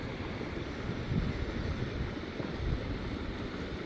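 Muddy flash flood water surges down a creek, a steady broadband roar with low, irregular thumps and rumbles of rocks rolling along the bed, heard up close under some wind noise.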